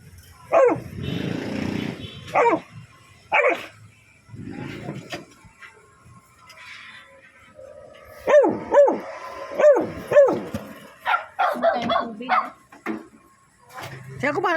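A skinny dog trapped in a motorcycle sidecar barks and yelps in repeated close bursts, with whimpering between them, while people talk nearby.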